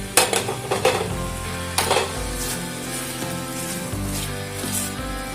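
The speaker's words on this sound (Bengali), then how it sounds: "পনিরগুলো দিয়ে ভালো করে নাড়াচাড়া করে মিশিয়ে দেবো" Paneer is stirred into spinach in a pan: a low sizzle runs underneath while a spoon scrapes and knocks against the pan in several quick strokes near the start, then settles into gentler mixing.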